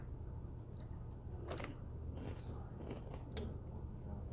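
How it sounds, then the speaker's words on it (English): Harvest Snaps snap pea crisps are bitten and chewed close to the mic, giving a few quiet, scattered crunchy snaps over faint background hiss. "Nice and crunchy."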